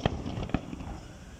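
Two sharp, distant fireworks bursts pop early on over a waterfront promenade in Sharjah, followed by faint crackling and low ambient rumble.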